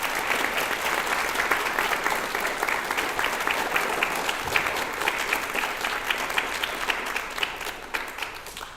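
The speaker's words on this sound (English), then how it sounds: "please give another round of applause to my fellow graduates on the stage" Graduation ceremony audience applauding the graduates on stage, a dense, steady wash of many hands clapping throughout, loud and sustained with a faint murmur of voices underneath.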